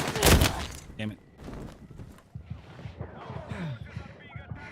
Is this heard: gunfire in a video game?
yes